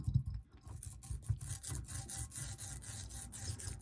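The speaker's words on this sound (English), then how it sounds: "First, you put the sealer on with your finger, and then you smooth it out like this." Finger smoothing sealer onto a VW/Audi TSI cam cover: close, soft rubbing and smearing in short repeated strokes, quiet and continuous with no speech.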